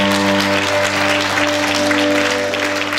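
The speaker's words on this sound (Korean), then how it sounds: "박수 부탁드립니다." Loud applause from a concert audience fills a broadcast hall, a dense steady roar of clapping layered over a sustained electronic hum and tones from the stage sound system.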